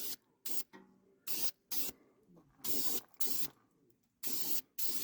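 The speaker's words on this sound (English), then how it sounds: "It's been years since I did a rattle can paint job." A rattle can spray painting a 1968 Kaiser M715 Jeep: repeated short bursts of aerosol hiss, each about half a second, separated by quiet gaps, close by with no talking.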